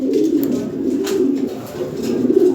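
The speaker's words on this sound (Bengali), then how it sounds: "কবুতর আরও আছে ভালো ভালো" Lahori Sirazi pigeons coo in a steady, low, throaty murmur that carries on without a break, close and fairly loud, with no voices over it.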